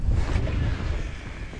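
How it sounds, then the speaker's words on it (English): Steady wind buffets the microphone in a low, continuous rumble, with a faint hiss of open water in the background while fishing cold water. "it's pretty windy out"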